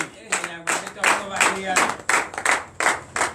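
A church congregation at a night deliverance and prophecy service claps in bursts of uneven, rhythmic rounds, loud and close, with voices calling out among the clapping.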